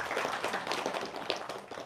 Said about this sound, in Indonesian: Kita boleh tepuk tangan dulu biar semangat ya.